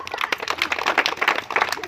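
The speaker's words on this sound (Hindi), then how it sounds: "ताली बजाओ।" Street-performance audience claps in scattered bursts across the whole moment, a busy outdoor crowd with voices mixed in around the hand claps.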